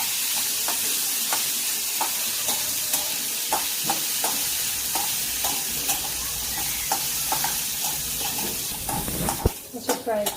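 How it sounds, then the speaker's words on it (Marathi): Bombay duck fish fry in a little oil with a loud, steady sizzle, punctuated by regular scraping stirs of a spatula in the pan, closer clatter near the end. "आता हे बोंबील आहे ना थोडेशा तेलामध्ये असे थोडे फ्राय करून घ्यायचे"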